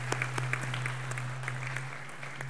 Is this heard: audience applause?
yes